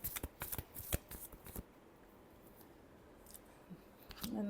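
Tarot cards being shuffled by hand, a quick flurry of soft papery riffles and taps up close, then a quiet pause before a few more light shuffling sounds.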